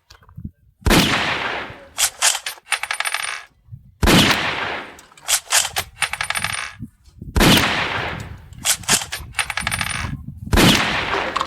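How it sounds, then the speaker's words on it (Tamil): A toy double-bullet gun fires sponge bullets in three rounds spread over several seconds. Each round has a sharp loud crack followed by rattling, clattering mechanical bursts and short bumps, all close up and with no talking. "மொதல் ரவுண்டு போட்டு சூப்பராக சுட்டாச்சு"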